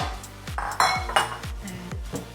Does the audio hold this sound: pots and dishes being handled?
yes